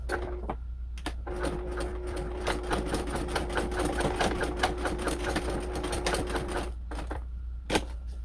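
A sewing machine runs a long, fast burst of stitching with a close mechanical whir, broken by short pauses and a few sharp clicks near the start and end.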